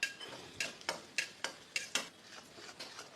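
Curry leaves, mustard seeds, dals and garlic fry in hot oil while a spoon stirs and scrapes the pan in quick, regular strokes, close and fairly quiet.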